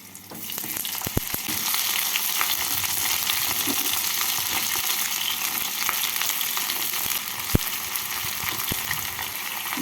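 Ridge gourd, pointed gourd and yardlong beans fry in hot oil with green chillies and panch phoron, a loud continuous sizzle broken by occasional sharp pops and spatula scrapes as the vegetables are stirred in the pan.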